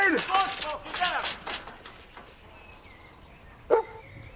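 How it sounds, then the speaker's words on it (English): A small dog on a rural farm barks and yaps in quick bursts close by, mixed with shouting voices urging it on, then a lone sharp yelp near the end after a quieter stretch. "A little dog's come in!"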